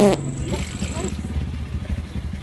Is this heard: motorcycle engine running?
yes